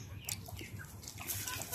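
Small native chickens cluck in a breeding cage, with short, close, choppy clucks overlapping in a busy, uneven rhythm.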